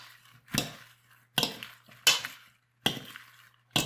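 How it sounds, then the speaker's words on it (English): Salad being tossed with dressing in a bowl using utensils, five distinct scraping clatters spaced about a second apart, close and fairly loud with quiet gaps between. "Into our salad it goes. And mix it together nicely."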